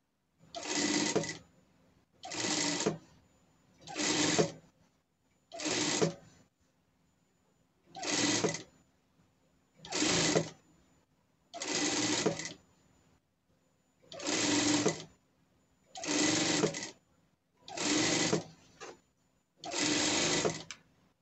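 A sewing machine hems a red skirt in short, loud bursts of stitching, about a dozen runs each lasting roughly a second, separated by brief pauses of near silence.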